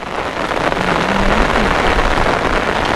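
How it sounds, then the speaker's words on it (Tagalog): Heavy storm rain roars in a dense, loud, unbroken wash, close and steady from start to finish with no voices. "Grabe yung ulan."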